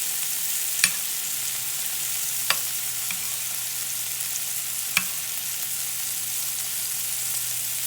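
Sausage frying in a pan with a little Worcestershire sauce added, giving a steady broadband sizzle throughout with a few sharp clicks or pops, close and moderately loud, with no voices.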